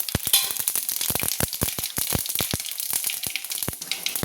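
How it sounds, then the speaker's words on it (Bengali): Whole cumin seeds sizzle and crackle in hot oil, a dense run of sharp pops and spits close by over a steady frying hiss. "তেলের মধ্যে ফোড়ন দিয়ে দিলাম।"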